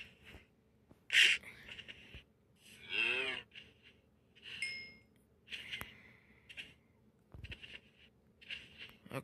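Cows in the Minecraft video game mooing in several separate calls, with a long drawn-out low moo near the middle, spaced across a quiet background with a few small clinks.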